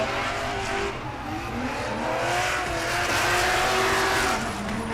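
Drift race cars at Orange Show Speedway during HOTPIT Autofest 2023 scream with high-revving engines whose pitch wavers, layered with sustained tire squeal and a constant crowd-like roar, loud throughout.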